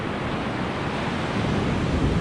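Ocean waves breaking on a beach in Cape Verde, heard as a steady, fairly loud wash of broadband surf and wind roar with no clear separate crashes, continuous throughout.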